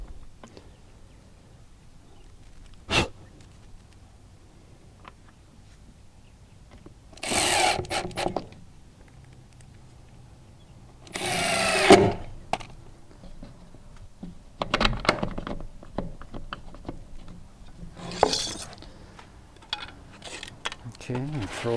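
A power drill drives screws into deck skirting boards without pre-drilling, heard as several short, separate whirring bursts spread over a quiet outdoor stretch, with faint handling knocks in between.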